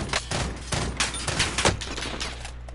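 Dense gunfire in a video game gun battle, a steady fusillade of overlapping shots and bursts at close range that keeps a loud, busy texture throughout without pause.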